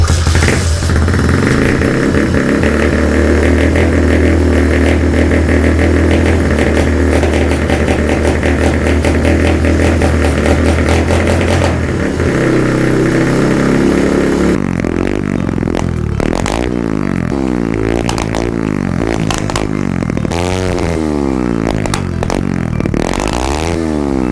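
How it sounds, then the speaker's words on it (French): A Honda Dax motorbike warms up at idle after a kick start with the choke on, a loud steady putter that later breaks into repeated blips and revs close to the microphone. "on va mettre le starter, hop, et maintenant on donne coup de kick et on va le laisser chauffer"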